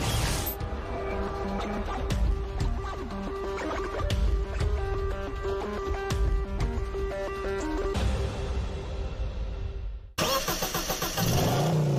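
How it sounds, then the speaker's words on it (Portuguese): An original V8 265 car engine runs and revs steadily at close range with a dense mechanical drone and tonal whine, then cuts off abruptly near the end. "Motor V8 265. É tudo original."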